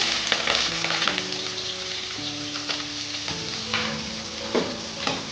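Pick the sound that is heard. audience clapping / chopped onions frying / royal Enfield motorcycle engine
chopped onions frying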